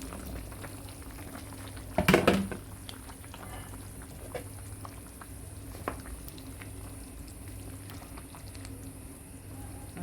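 Carrots and Irish potatoes simmer in a pot of Jamaican curried chicken back with onion, scotch bonnet and garlic, giving a steady soft bubbling with one brief clatter near the start and no talking.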